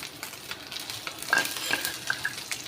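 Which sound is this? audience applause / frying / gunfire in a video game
frying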